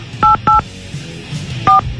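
Touch-tone telephone number being dialed, a handful of crisp DTMF beeps in two quick pairs separated by a pause, loud and close with no talking over them.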